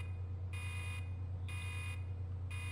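A machine in the video game Resident Evil 2 emits a repeating electronic beep, three even pulses about a second apart over a steady low hum, with no talking.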